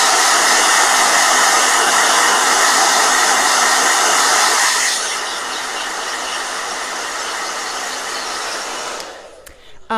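A hair dryer roars as a loud, steady airy whoosh, shifting to a slightly lower setting halfway through before cutting off near the end.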